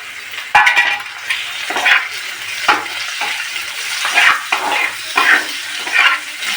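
Boneless chicken goes into a pan of lightly fried onions, with sizzling frying and repeated scraping stir strokes at close range, the spoon knocking against the pan at intervals.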